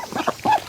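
A duck gives a couple of short quacks in quick succession, fairly close, on a cold winter day.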